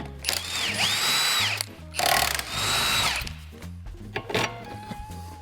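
A power tool zips off the bottom shock bolts on a Ford Flex in a garage, with a few loud whirring bursts of rising and falling motor pitch, close by, separated by short clanks and pauses.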